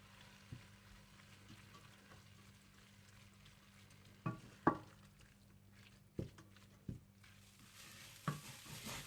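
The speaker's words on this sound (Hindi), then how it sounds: "गरम मसाला पाउडर, नमक, और 1 टीस्पून जीरा पाउडर डालकर इसे अच्छी तरह से भून लें।" Minced meat with garam masala, salt and cumin powder fries quietly in a pan, a faint sizzle under scattered stirring taps and scrapes of a spoon, a few sharper clacks standing out.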